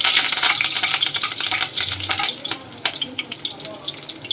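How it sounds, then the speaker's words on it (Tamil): Curry leaves dropped into hot oil with mustard seeds and fenugreek for a Tamil garlic kuzhambu crackle and sizzle loudly at first, then settle into a busy spattering fry close up. "இப்போ கடுகும் வெந்தயமும் நல்லா பொரிஞ்சிருச்சு. 2 கருவேப்பிலை போட்டுக்கிறேன்."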